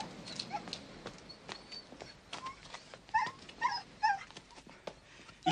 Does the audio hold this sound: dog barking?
yes